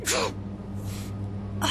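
A single sharp sneeze bursts out near the start, followed by a faint breath and then a second, softer breathy burst near the end, all over a low steady hum.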